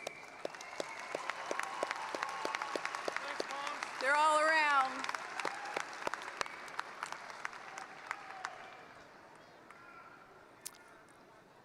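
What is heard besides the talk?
audience applause at a graduation ceremony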